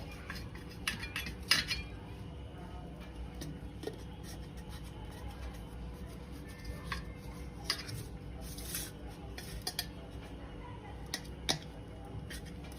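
A knife cuts bread into medium-sized pieces on a board, giving faint scattered taps and clinks against a quiet background, with a sharper knock now and then.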